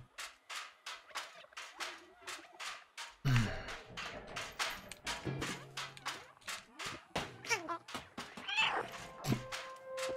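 A cat meows several times in the video game Stray, mixed with rapid clicking and tapping game sounds at a steady, fairly close level.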